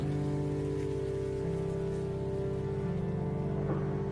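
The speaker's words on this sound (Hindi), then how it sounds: "बारिश में तो गजब का शोर है, पर खिड़कियों से टपकती बूंदों के साथ" Steady rain falls outside and drips from windows, a continuous soft patter with a faint low hum beneath, with no voices present.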